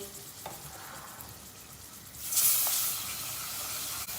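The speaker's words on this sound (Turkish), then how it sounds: "Domates salçasını iyice bir kavuracağız." Tomato paste fries in hot oil with a soft, steady sizzle that swells into a louder hissing burst partway through, heard close and alone without talk.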